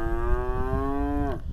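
A South Poll/Angus cross heifer calf gives a single sustained moo close by, steady and tonal before tapering off, over faint outdoor pasture background.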